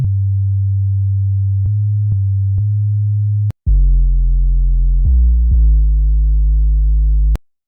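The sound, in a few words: long-note bass from FL Studio 3x OSC synth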